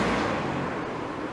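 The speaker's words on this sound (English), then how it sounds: "they heard the car or the vehicle passing quite loudly as well" A car passes along a street lined with Victorian shops, a broad loud roadway whoosh filling the short moment without speech.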